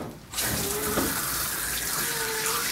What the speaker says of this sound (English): you can have your water running